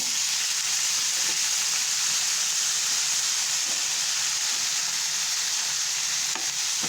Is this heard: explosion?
no